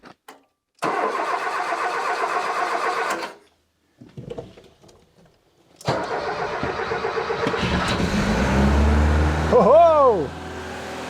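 A Lada Niva's engine is cranked by the starter in two bursts separated by a pause, then catches and runs on a third try, revving up near and loud; a person speaks briefly.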